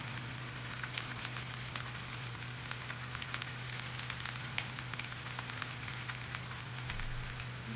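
Ivy gourd (tondli) fries in oil with onion, giving a soft, continuous crackle and spatter, quiet and close, with no one talking.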